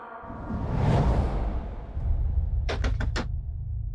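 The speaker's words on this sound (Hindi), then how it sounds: "अरे हनुमान, दरवाजा खोलो, घोड़े गधे बैठ कर सो रहे हो क्या" Three or four sharp knocks rap on a door near the end, following a broad rustling swoosh and over steady low room hum; nobody speaks.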